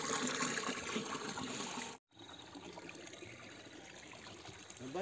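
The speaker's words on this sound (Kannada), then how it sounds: "ಸೊ ನೀರು ತುಂಬ್ತಿದ್ದಾರೆ." Water fills containers at a village home in a steady trickling, splashing stream, faint and somewhat distant, with a brief gap partway through.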